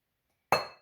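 A glass bowl set down on a kitchen counter makes a single sharp clink that rings briefly and fades, close by, after a moment of silence.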